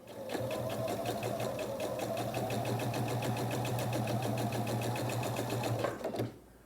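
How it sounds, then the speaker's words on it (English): Sewing machine stitching a scant quarter-inch seam on a sailboat quilt block, a steady close rapid mechanical whir with a fast regular needle chatter running continuously for about six seconds before stopping. "I'll take these to the sewing machine and I'll sew a scant 1/4 inch seam right here and right here"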